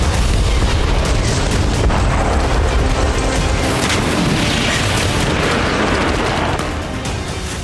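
FAB-500 bombs explode in the Kursk region. A loud, continuous, roaring rumble fills the whole stretch, dense and heavy, and eases only slightly toward the end.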